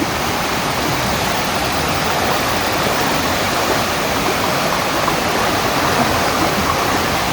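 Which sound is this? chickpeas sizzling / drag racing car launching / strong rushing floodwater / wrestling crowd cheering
strong rushing floodwater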